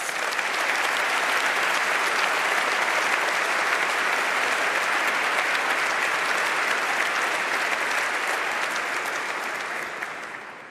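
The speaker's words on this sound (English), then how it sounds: "And I think they also definitely deserve an applause." Sustained audience applause inside a basilica during a university anniversary ceremony, a dense, loud wash of clapping that holds steady for about ten seconds before starting to fade.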